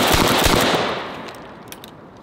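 A 12 gauge slam fire shotgun loaded with birdshot fires a single loud, close blast that rolls away into a decaying echo, followed by a few faint clicks and rustles.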